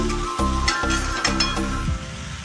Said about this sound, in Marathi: छान हलवून घ्यायचं आहे छान त्याला परतून घ्यायचं आहे